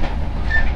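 Steady rumbling cabin noise inside an executive-class carriage of the KA Brantas train on the Blitar–Jakarta route, a 1980s-era coach with weak sound insulation, heard as a continuous close drone with a faint high squeal partway through.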